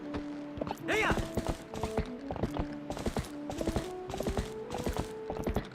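Rhythmic clip-clop of horse hooves from Zelda: Twilight Princess, a steady, close game sound with a brief horse whinny early on and short musical tones layered over the hoofbeats.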